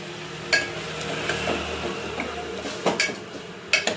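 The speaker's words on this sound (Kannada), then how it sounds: "ಇದು ಪೇಸ್ಟ್ ಹಾಕ್ತಾಯಿದ್ದೀನಿ." Tomato, green chilli and coriander paste goes into a hot tempering, giving a soft sizzle and stirring with a few sharp clinks of a spoon against the pan.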